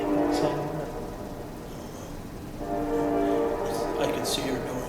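Passing train sounding its horn near a haunted mansion, long sustained horn blasts rising and falling at moderate distance, heard under and between people's conversation.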